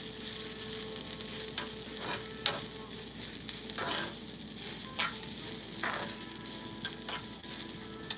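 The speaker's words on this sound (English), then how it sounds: "So we're just going to saute it a little bit like this" Pizza vegetables sautéing in a pan, a steady close sizzle with repeated scraping stirs spaced every second or so and one sharp clink, no voices.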